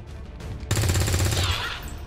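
A soldier's weapon fires in XCOM 2, opening with a loud sudden burst after a brief low lead-in, followed by rapid repeated shots and a crackling tail that fades out.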